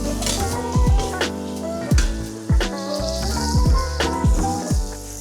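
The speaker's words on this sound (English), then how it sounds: "Cook the pork for a few minutes, breaking it up as it cooks, until it starts to brown and release its fat." Ground pork spatters and sizzles in a pot while being broken up with a utensil, with repeated sharp scraping knocks over a steady frying hiss, close and fairly loud.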